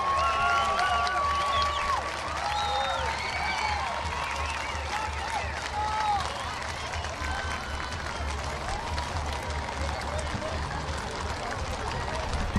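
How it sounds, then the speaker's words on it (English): A crowd applauds big cavalry horses at an apple blossom grand parade, diffuse outdoor clapping mixed with a broad wash of street noise and faint whistle-like tones, continuing for several seconds. "let's give this big cavalry horses a big round of applause"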